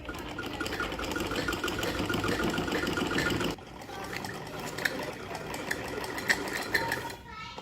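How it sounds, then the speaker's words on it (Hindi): Sewing machine stitching fabric pieces together for a Banjara style boho bag, a steady loud mechanical whirr that stops abruptly partway, followed by quieter handling and light clicks. "फिर मैं इन तीनों को यहाँ पे सिलाई लगा के फिर जोड़ दूँगी।"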